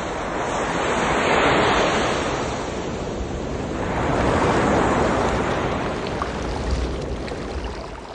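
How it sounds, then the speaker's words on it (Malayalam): Sea waves roll in and break on a shoreline, a loud continuous roar that swells and recedes twice, with wind buffeting the microphone. "കടൽ തീരത്തിലൂടെ കൽപ്പറ്റ നാരായണനൊപ്പം നടന്നു."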